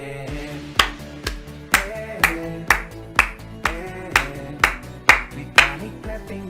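Rhythmic clapping plays as a sound effect over a bouncy musical backing, about eleven sharp claps spaced roughly half a second apart, loud and close with no talk over them.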